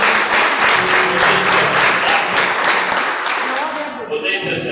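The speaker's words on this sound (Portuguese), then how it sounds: "a igreja dá uma linda salva de palmas para vocês" A church congregation applauding, a dense, loud burst of clapping that holds steady and then thins out toward the end, with voices mixed in.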